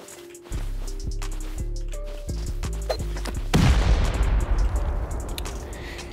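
Heavy C4 charges and a rocket detonate against a bunker wall during a video game raid: a string of sharp booming blasts, then a bigger explosion at about 3.5 s that rumbles on loudly to the end.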